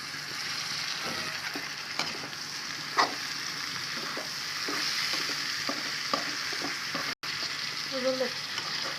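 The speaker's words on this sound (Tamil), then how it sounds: "காயெல்லாம் நல்லா வதங்கிச்சு தக்காளி அது கூட சேர்த்துக்கலாம்" Beans, cauliflower, carrot and tomato sauté in a pan for vegetable brinji. A continuous close sizzle runs throughout, with scattered spoon scrapes and taps as the mixture is stirred.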